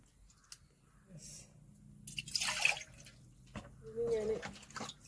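Water poured from a cooking cup into a pot of sambar, a short splashing burst in the middle followed by softer liquid sloshing, close by with a quiet background.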